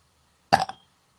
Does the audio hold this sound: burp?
yes